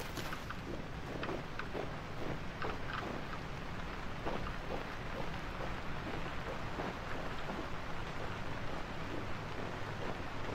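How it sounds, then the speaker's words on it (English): Steady heavy rain in the video game Vintage Story hisses continuously, a dense even patter with scattered louder drops, no voices over it. "But now it's raining."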